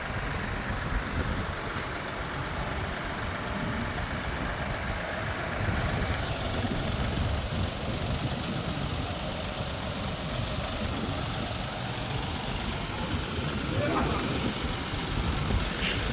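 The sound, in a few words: Kioti DK5320 tractor engine idling while lifting a pallet of net wrap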